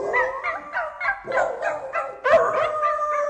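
Several dogs bark and yip in a Super Bowl ad teaser, a close, bright run of short barks that seem to follow a sung tune, with one louder burst near the end.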